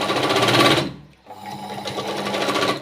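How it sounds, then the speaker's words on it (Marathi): A sewing machine stitches hook-and-eye tape onto fabric with a close, steady mechanical whir. It stops briefly, then runs on at an even pace. "तिथं ही पट्टी शिवत असताना तिथं थोडंसं मागे पुढं करून घ्यायचं आहे म्हणजे तिथं शिलाई व्यवस्थित बसते"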